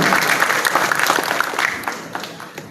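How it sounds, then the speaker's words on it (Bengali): Audience applause fills the hall at the opening ceremony of the Dhaka International Film Festival at the Bangladesh National Museum, a steady, loud wash of clapping from many hands lasting throughout, with scattered louder claps and no speech over it. "তা জোরে করতালি হয়ে যাক মাননীয় উপদেষ্টার জন্য।"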